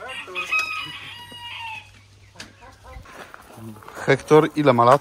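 Ornamental chickens, including Brahmas, crowing and clucking inside an aviary, a drawn-out crow near the start followed by scattered clucks, with people talking over them.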